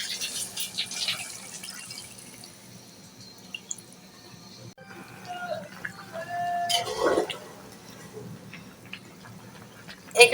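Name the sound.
water poured into pan of bottle gourd curry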